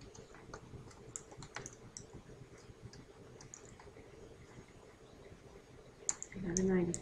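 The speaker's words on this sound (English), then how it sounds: "Keep on typing all this information in." Light, irregular clicking of keys tapped on a computer keyboard, steady and fairly quiet, with a brief louder thump near the end.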